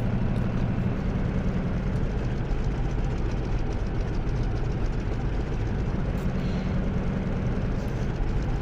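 A Grumman F6F Hellcat's radial piston engine in Microsoft Flight Simulator 2020, taxiing with a loud, steady, low rumbling drone that holds constant throughout with no voices.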